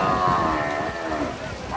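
Cattle at a rainy livestock market, a long, loud, close moo with a falling pitch against background noise.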